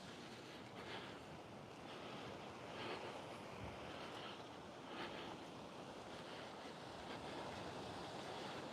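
Steady wind rushes outdoors on a warm day, about 24 degrees, in Alcalá, carrying a continuous, fairly faint broadband hiss with gentle swells and no voices.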